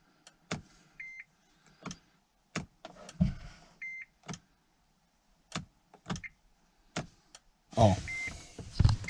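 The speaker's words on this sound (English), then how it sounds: "Right now I'm just gonna turn the car on." A 2017 Honda Odyssey is switched on, giving a series of sharp clicks and short electronic chimes at irregular intervals, followed by a brief louder mechanical whir near the end, in a quiet cabin.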